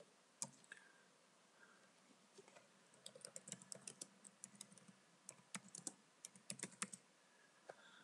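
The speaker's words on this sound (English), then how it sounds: "Let's just type into that." Quiet typing on a computer keyboard while editing an online SharePoint document, with irregular bursts of light key clicks and short pauses, close and alone without speech.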